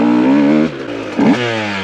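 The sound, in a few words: 2024 GasGas 125 motorcycle accelerating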